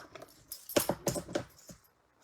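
Scissors drop onto a floor during a paper card-making craft session, making a quick run of light metallic clatters and bounces, fairly faint and otherwise quiet.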